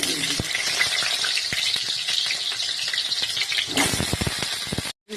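Oil sizzling and crackling steadily in a wok while Bengali-style khichuri is being cooked. The frying noise stays loud and dense, with sharp spits and pops throughout. A brief gap of silence comes near the end.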